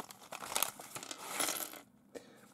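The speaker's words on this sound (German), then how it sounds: "Und ein Ratschgeräusch, hört mal." Crinkly plastic tearing as a Lego Ninjago polybag is ripped open, a close, loud rustling burst lasting over a second, then a pause and a small rattle of parts.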